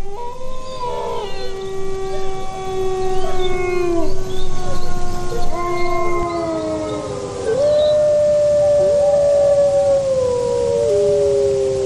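Wolves howl in the Italian Alps, several long, overlapping howls rising and falling together in a loud, sustained chorus that fills the whole stretch.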